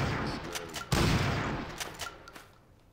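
Bursts of gunfire in the shooter game NecroVisioN, sharp repeated shots with one heavy blast near the start, echoing and tapering off toward the end.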